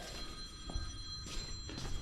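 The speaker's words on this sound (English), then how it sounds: "I hear my phone." A phone rings in a machine shop, its tonal electronic ring repeating in short bursts over a low background hum, fairly faint and with nobody speaking.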